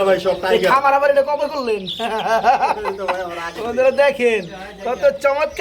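Pigeons for sale at a market stall coo and warble in repeated throaty phrases, mixed with chirpy calls and other lively vocal sounds close by.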